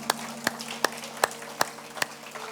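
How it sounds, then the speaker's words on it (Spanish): Congregation clapping during a church service: sharp, evenly spaced claps in a steady rhythm, about seven beats, ringing out over a faint sustained tonal background. "denle un aplauso fuerte al Señor"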